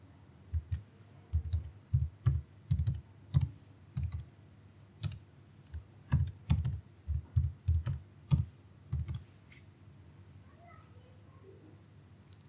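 Keys clatter on a computer keyboard as a password is entered during online registration for a Char Dham Yatra e-pass, a dozen or so quick uneven clicks in short bursts, close and clear, with no talking over them.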